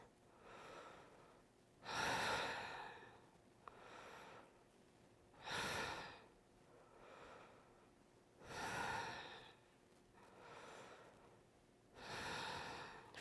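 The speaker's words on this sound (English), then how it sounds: "And take your deep breaths." Slow, deep yoga breaths, about five long inhale-exhale swells spaced a couple of seconds apart, close and soft with quiet gaps between.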